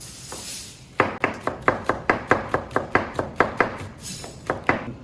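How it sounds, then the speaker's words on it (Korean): Green onions (daepa) being sliced with a kitchen knife on a cutting board in a small restaurant kitchen preparing pork gukbap: a close, steady series of about fourteen crisp chops at an even brisk rhythm, with no talking. "대파 금방 한번 썰어볼게요"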